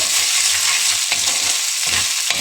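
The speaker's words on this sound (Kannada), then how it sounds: "ಶುಂಠಿ ಬೆಳ್ಳುಳ್ಳಿ ಪೇಸ್ಟ್ ಎಲ್ಲ ಹಸಿ ಸ್ಮೆಲ್ ಹೋಗೋ ತನಕ ನಾವು ಚೆನ್ನಾಗಿ ಫ್ರೈ ಮಾಡ್ಕೊಂಡ್ವಿ" Ginger garlic paste fries in hot oil in a pan for chilli chicken, giving a steady, close, loud sizzle with faint stirring scrapes and no voices.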